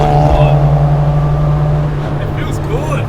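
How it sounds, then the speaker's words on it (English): Nissan Skyline R31 with an RB30 engine driving, its exhaust giving a steady low droning hum heard from inside the car, smooth and constant with a faint voice or two in the background. "the exhaust is sort of nice. You got that flowy sound."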